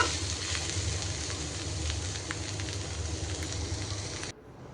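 Hot tempering of garlic, onion and dried chili poured into cooked mung dal, a loud dense sizzle and crackle that holds steady for about four seconds and then stops suddenly.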